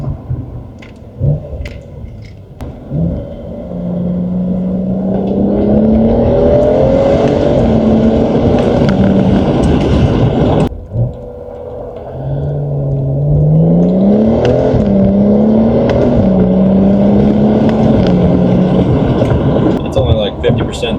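Stock BMW 335i with an N55 engine and a DCT transmission swap accelerating hard at part throttle, a loud rising engine note climbing through gears with a brief shift break, someone talking over the engine throughout.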